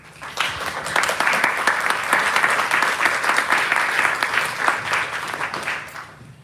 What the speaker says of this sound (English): Now let's give a big round of applause to welcome our 2 debate teams.